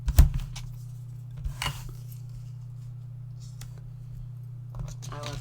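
Scissors cutting a card bar, a few crisp snips close by in the opening seconds with a faint, steady low hum underneath, then quieter handling noises.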